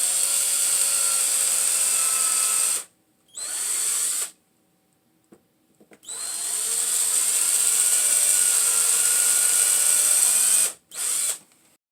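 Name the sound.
electric drill pre-drilling screw holes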